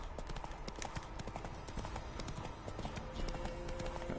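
Roach the horse trotting in The Witcher video game, a steady, close clip-clop of hooves repeating rapidly throughout, with a faint voice briefly audible beneath it.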